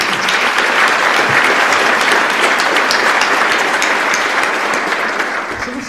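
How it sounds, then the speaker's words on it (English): Loud, sustained applause from a large audience welcoming Microsoft CEO Satya Nadella to an on-the-record onstage conversation, dense steady clapping throughout that eases slightly at the end. "Please give Satya a round of applause."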